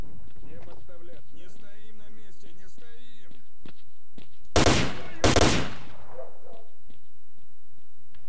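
Gunfire in STALKER: Shadow of Chernobyl using armor-piercing rounds, two loud close bursts of automatic fire with a short gap between them, following a stretch of speech.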